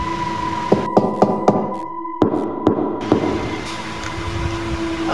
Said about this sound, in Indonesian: terdengar lagi suara ketukan.